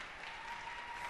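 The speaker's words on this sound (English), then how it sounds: "And does get an applause from his Canadian fans up there." Steady applause from an audience at a mixed doubles curling match, a dense wash of clapping at moderate distance, brief and even throughout.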